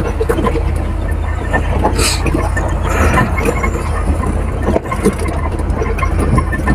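A Canter truck engine running while driving makes a steady, loud, low drone heard from inside the cab. It holds nearly constant throughout, with a brief dip near the end and only faint traces of voices.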